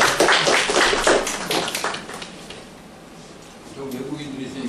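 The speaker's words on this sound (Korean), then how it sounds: "네, 한번 박수 한번." A seminar audience gives a short round of applause, a burst of many hands clapping that fades within a couple of seconds, followed by a quiet room and then a voice starting to speak.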